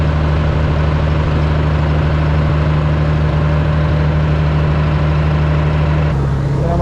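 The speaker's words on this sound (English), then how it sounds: "Got a little 10-inch auger." A tractor-driven 10-inch grain auger unloads grain in winter with a steady, loud, low mechanical drone that holds constant throughout and shifts slightly in tone near the end.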